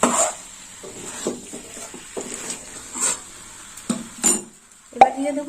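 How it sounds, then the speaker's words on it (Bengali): Green jackfruit curry being stirred in a pan after khoya kheer goes in, with scattered scrapes and light clinks of a spoon against metal, intermittent and close, with a sharper clatter near the end. "এইভাবে খোয়া ক্ষীর দেওয়ার পর একটু ভালো করে নেড়ে চেড়ে নিতে হবে।"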